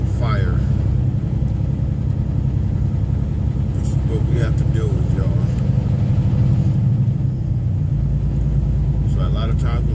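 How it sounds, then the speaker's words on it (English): A truck idles and creeps along in slow, jammed freeway traffic in Utah, a constant heavy engine rumble with a few brief hissing sounds, while someone talks over it. "Stuck in traffic in Utah with the fire."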